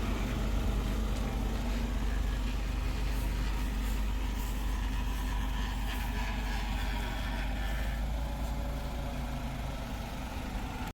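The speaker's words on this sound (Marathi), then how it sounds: "या ठिकाणी रिवर्स लावत आहे गाडी," A car's engine idling low and steady while reversing into a parking spot on a road, a constant rumble with no voices over it.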